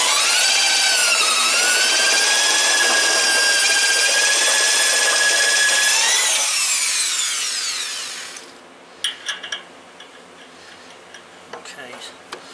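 A power drill whines loudly and steadily while boring at an angle into a sawmill leg bracket, its pitch rising and shifting before spinning down, followed by a few sharp clicks and knocks.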